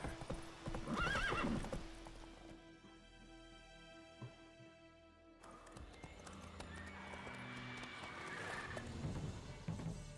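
Roach, a horse in The Witcher 3, clip-clopping along in a steady rhythm, with a pause of near quiet in the middle before the hoofbeats resume amid outdoor ambience.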